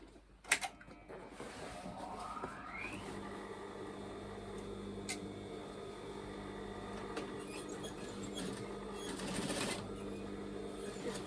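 A sewing machine hums along a seam in a pair of rockabilly trousers, a low steady whir sustained throughout after a brief clatter at the start, quiet and alone.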